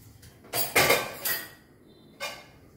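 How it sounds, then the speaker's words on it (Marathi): Metallic clanks of a pressure cooker lid being set and locked shut over pongal in a home kitchen: a couple of sharp close clatters, then a softer final clink, with no talk. "झाकण बंद करते।"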